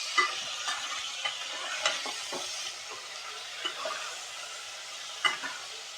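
Green chillies sautéing in a pan over a low gas flame, a soft continuous sizzle broken by occasional clicks and scrapes of a spoon stirring.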